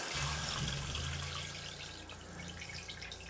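Antifreeze runs steadily through an RV toilet and shower during winterizing, a continuous soft rushing, splashing flow, close and fairly quiet, with no voices.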